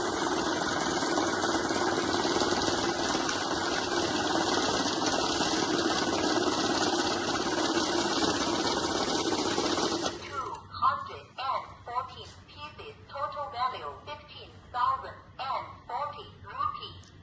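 A mixed-denomination banknote counting machine whirs loudly and steadily for about ten seconds, then stops, and a person starts talking.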